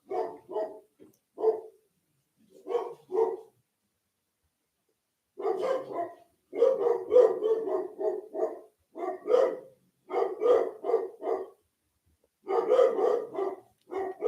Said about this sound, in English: Damn dogs. I love them, but man, they're so loud.